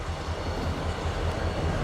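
EJ&E SD38-2 diesel switcher locomotive working train cars during a switching move, a steady low diesel rumble with a rhythmic throb, close and continuous with no voices.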